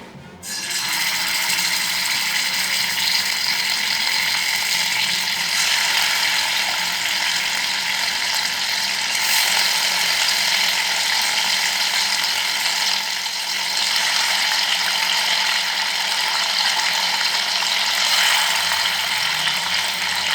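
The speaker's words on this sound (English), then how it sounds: "Once the oil is hot, we'll put in the chicken. We'll just fry in the chicken." Chicken pieces fry in hot oil for a Goan cafreal dish, giving a steady, loud, even sizzle with fine crackle that runs unbroken and close by throughout, with no voices.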